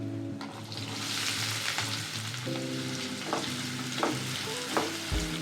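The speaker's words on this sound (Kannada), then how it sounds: "ಇವಾಗ ಈರುಳ್ಳಿನೂ ಹಸಿರು ಮೆಣಸಿನ್ಕಾಯಿ ಹಾಕ್ತಾಯಿದ್ದೀನಿ." Onions and green chillies sizzle in hot oil in a pan for a bitter gourd stir fry, a steady close crackle with a few sharp pops and stirring scrapes.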